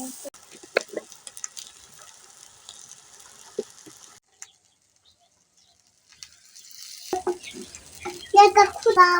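Gulsha river fish sizzling in mustard oil in a clay pot over a clay stove, a soft crackle that drops away briefly, then returns louder and busier near the end.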